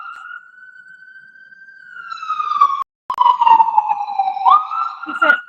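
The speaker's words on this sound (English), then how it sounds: "Hold on, ambulance passing by." Ambulance siren passing by outdoors, a long steady wail that bends downward in pitch as it goes past, with a voice talking over it and a brief dropout partway through.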